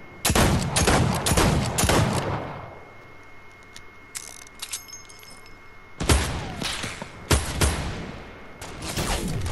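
Heavy sniper rifle fire in Fortnite: loud, close booming shots in quick bursts, a short quiet gap with a faint steady tone, then another volley of blasts. No voices.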